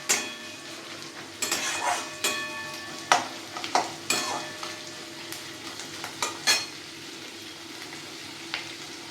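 Chopped green chillies fry in a pan for a garlic fish dish, sizzling steadily up close with repeated stirring scrapes and light clinks of a spoon against the pan; no talking.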